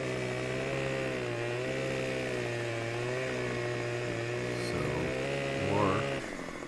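A chainsaw cuts through a tree in the Farming Simulator 15 video game, a steady buzzing whine that holds evenly and then dips and wavers near the end, with no talking.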